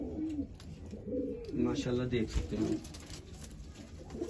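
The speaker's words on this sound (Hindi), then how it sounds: "ये कबूतर बहुत जबरदस्त है" Highflyer pigeons coo in soft, low, rounded bursts close by, while someone talks over them.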